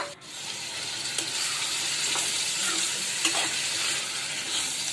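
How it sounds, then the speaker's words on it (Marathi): Jackfruit seeds sauté in spice masala in a hot pan, giving a continuous soft sizzle and frying hiss, with a few sharp scrapes and clicks as a spoon stirs them. No one speaks. "आता ही जी फणसची बी आहे आपण टाकून देऊया आणि मस्तपैकी परतून घ्यायचं आहे"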